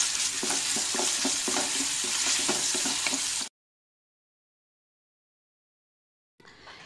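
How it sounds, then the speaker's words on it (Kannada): Onion and capsicum fry loudly in a pan as a spoon stirs them with a scraping rhythm. The sound cuts off abruptly into silence, then the frying returns briefly at the end. "ಸ್ವಲ್ಪ ಫ್ರೈ ಮಾಡೋಣ"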